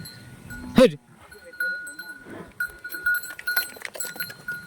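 Cattle sounds near a farmyard: a short loud call early on from a cow being untied to drink water, with a bell clanking and scattered rustling and faint voices afterward.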